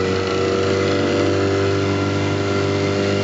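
A 1933 Johnson A-65 4.1 hp outboard motor runs close by with a steady, even drone, holding a smooth buzzing hum throughout without pauses.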